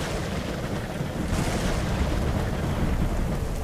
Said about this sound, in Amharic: ዝናቡም ዘነበ